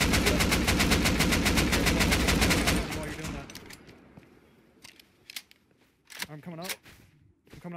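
Rapid automatic gunfire in the video game Rust shooting at a ladder, a dense burst of shots for nearly three seconds, then scattered single shots and game noises under quieter talk.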